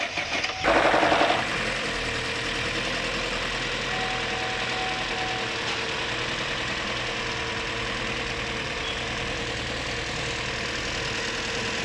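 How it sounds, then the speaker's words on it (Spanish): A Chevrolet Tracker engine runs steadily just after a coolant leak repair that fixed oil getting into the coolant, holding a constant close mechanical hum with a brief louder burst near the start. "Acabamos de arrancar el motor después de haber hecho la corrección con la presencia de aceite en el refrigerante"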